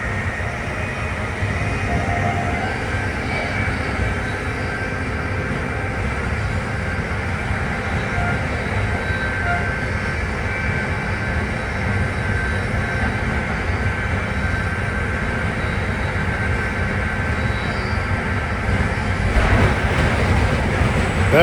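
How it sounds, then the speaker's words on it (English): Amtrak Northeast Regional Train 130, bound from Washington to New York, rushes past as a steady broadband roar heard from inside a moving train, swelling slightly louder near the end. "That is Northeast Regional Train 130 en route from Washington to New York"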